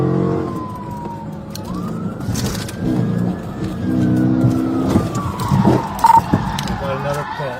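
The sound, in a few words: police car performing PIT maneuver on suspect car, with siren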